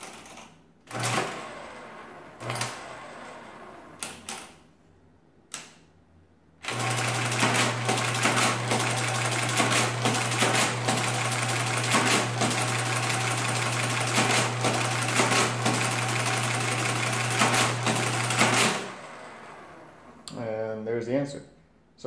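A Marchant XL mechanical desk calculator runs automatically, its carriage shifting with a loud, rapid, steady mechanical clatter for about twelve seconds, preceded and followed by someone talking close by with a few short clacks in between.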